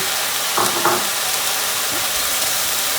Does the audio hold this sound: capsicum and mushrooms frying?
yes